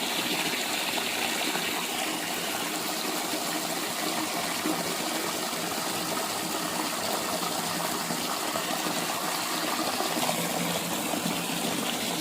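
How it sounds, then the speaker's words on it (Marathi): Water splashes and gushes steadily and loudly, a continuous sloshing of rinsing rice with no voices. "हे आता स्वच्छ दोन पाण्याने धुवून घेतले"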